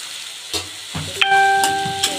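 Onion and potato dropped into a hot pan, a couple of dull thuds followed by a steady sizzle with a faint whistle-like ring over it, close and moderately loud.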